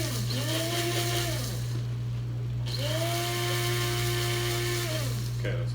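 Motorized coffee grinder crushing coffee beans with a loud, continuous whirring hum, its pitch swelling in two waves as the beans break down, with a steady low drone throughout.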